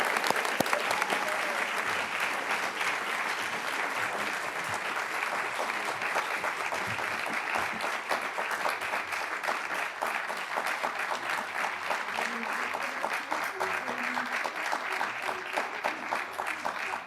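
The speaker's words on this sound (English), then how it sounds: "Please join me in a huge round of applause for Cassidy and to all of our graduates of the last" A large audience at a university sustainability awards ceremony applauds steadily for graduates, a dense, sustained wash of clapping filling the room for the whole stretch without letting up.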